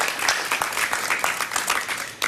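A crowd applauds steadily, many hands clapping in a dense, continuous patter that holds throughout before easing slightly at the end.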